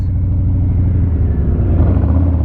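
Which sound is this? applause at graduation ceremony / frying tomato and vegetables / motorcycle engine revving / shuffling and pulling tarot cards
motorcycle engine revving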